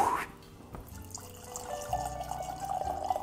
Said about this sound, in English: Let's empty this bottle a little bit into my belly.